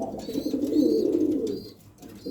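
Pigeons coo in soft, throaty, repeated murmurs at close range in a breeding loft, a steady low warble that swells and then eases off, with light chirps above and no talking.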